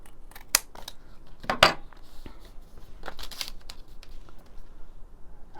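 Paper snipped with scissors in a straight line, a few sharp cuts and crisp snips close up, quiet rustling of paper between them.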